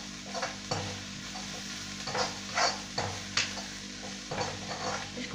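Momo filling with green chilli fries in a pan, a soft steady sizzle broken by repeated scraping stir strokes roughly every second, close and moderately loud, with no talk.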